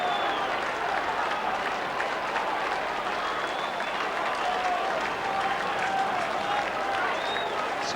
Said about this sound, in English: St Kilda crowd right behind their men too.